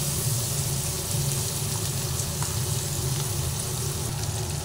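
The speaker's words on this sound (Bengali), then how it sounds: "সব দিয়ে এবার ভালোভাবে নেড়ে চেড়ে আবার এটাকে ভেজে নিচ্ছি" Bhetki fish fries with turmeric and chilli powder in a pan, a steady dense sizzle running evenly throughout with no voices.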